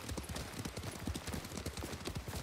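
Horse hooves clip-clop in a steady, quick rhythm as a rider travels in the video game Ghost of Tsushima, fairly quiet and continuous throughout.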